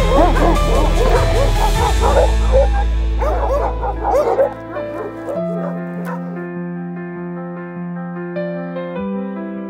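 Several young dogs in the puppy enclosure of a dog ranch yip, bark and whimper together, loud and close at first, then settling into sustained whining cries and howls.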